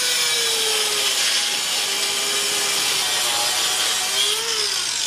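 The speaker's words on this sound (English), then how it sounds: "These 2 that are close to the other studs are gonna be cut about 3 threads." Extended wheel lug studs being cut, a steady, continuous, harsh high grinding whine of a tool on metal that holds at close range and drifts slightly in pitch, no talking.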